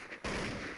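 A single loud gunshot in Counter-Strike 1.6, an abrupt close blast that sustains briefly after a quiet lead-in.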